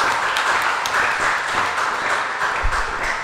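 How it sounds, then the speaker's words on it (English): A congregation claps a round of applause during an afternoon church worship service, steady massed clapping throughout with a faint ping near the end. "let's give them one more round of applause"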